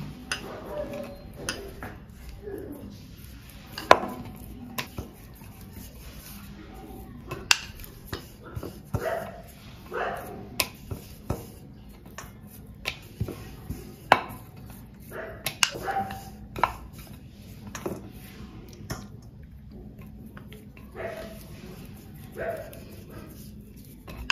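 Green spinach luchi dough is rolled out with a rolling pin, giving light irregular taps and clicks against the board, spread through a quiet room with no talking.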